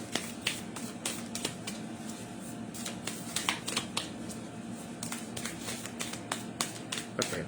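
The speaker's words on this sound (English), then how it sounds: "Let me just shuffle one more time." Large tarot cards are shuffled by hand up close, with rapid crisp riffles and slaps arriving in uneven bursts, each flurry ending in a sharper snap. No one talks.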